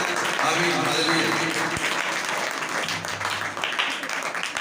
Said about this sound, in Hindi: जोर ताली